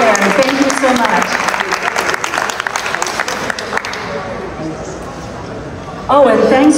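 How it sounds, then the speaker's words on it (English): Audience applause for the sound crew at a Philadelphia mayoral candidate forum, brisk clapping from a crowd that thins and fades before a voice resumes talking near the end. "let's give them a little round of applause there"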